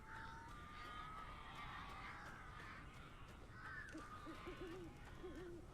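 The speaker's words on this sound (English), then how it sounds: "Look at those birds." Crows caw repeatedly in the Alan Wake video game, rough calls sounding over a steady, noisy ambient bed, with a couple of short hoot-like calls toward the end.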